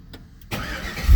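Car engine cranking and firing up after an idle-tune flash with HP Tuners, going from near silence into a loud, rough idle that swells toward the end, close by with no talk.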